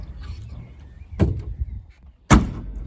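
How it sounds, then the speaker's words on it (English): Cab door of a New Holland TH 5.26 telehandler opening, two sharp mechanical clunks of latch and hinge a second apart, close and loud over faint background rumble. "door that goes open like that"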